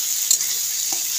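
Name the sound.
fried eggs being stirred in frying curry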